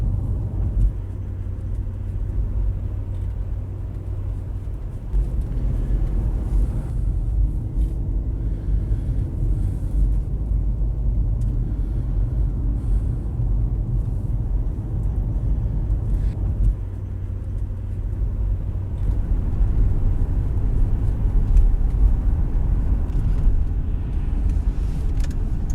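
Jaguar XJ8 SE V8 X350 saloon driving on the road, a steady low engine and road rumble from inside the cabin that swells slightly as it accelerates.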